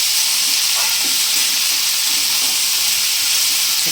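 Peas, cauliflower, potato, carrot and beetroot fry together in a pan for vegetable chops, a loud continuous hiss and sizzle under soft intermittent scraping as they are stirred.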